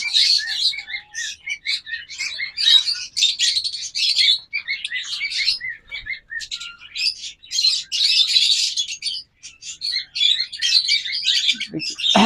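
Small birds chirp and twitter continuously in quick, overlapping bursts, fairly close and moderately loud, with no talking.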